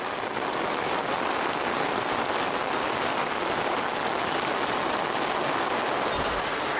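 Rain falls outdoors as a dense, steady hiss that stays loud and even from start to finish, with no other distinct sounds standing out.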